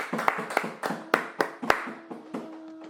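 A church congregation claps in a brisk, even rhythm, about a dozen sharp claps close together, the beat loosening and fading away after a couple of seconds.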